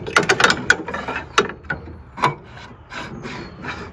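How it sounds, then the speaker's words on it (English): A lock rod slides into the brackets of a Peragon truck bed cover, giving close metallic clicks, taps and rubbing scrapes in irregular bursts, louder at first and then fading to softer scraping. "Now we insert our lock rod."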